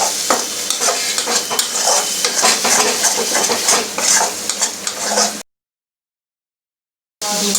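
Egg frying in a pan as a spatula stirs it, close sizzling with scraping and clinking against the metal, continuous for about five seconds, then a sudden silence before the sound returns briefly.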